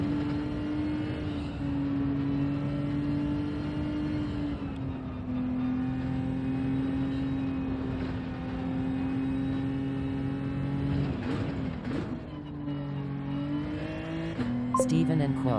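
A race car in Gran Turismo 7 at Fuji holds a loud, steady engine whine that dips and climbs with downshifts around braking, with tire noise late, and a voice talking over it.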